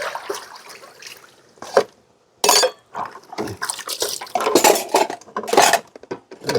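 Dishes and bowls being washed by hand in a basin, with irregular clinks and clatters of crockery and cutlery, splashing water and short pauses between bursts, close up.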